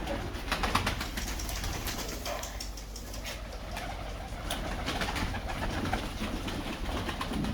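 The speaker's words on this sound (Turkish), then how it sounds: "Güvercin cenneti" Many pigeons coo together in a steady, crowded chorus inside a pigeon loft, with occasional wing flutters and shuffling.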